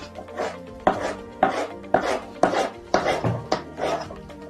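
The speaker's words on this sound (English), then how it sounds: "So we start cutting our tomatoes julienne shape." Knife chopping tomatoes into julienne strips on a cutting board, with a steady run of about eight crisp, evenly spaced cuts, close and fairly loud, and no voices.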